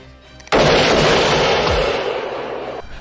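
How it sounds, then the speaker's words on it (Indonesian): A single loud sniper rifle gunshot from the 1993 film Sniper, a sharp blast at close range followed by a long rolling echo that fades over a few seconds, with no talk. "Beckett pun berhasil menembaknya tepat mengenai dada kirinya"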